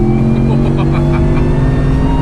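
A tuned Ford F-150 pickup making roughly 725 wheel horsepower accelerates hard up an on-ramp, its engine a loud, steady, close roar building under light throttle with no pause.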